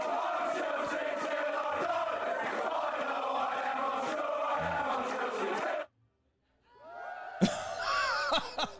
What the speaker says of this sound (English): The drunk crowd. I love the delayed response.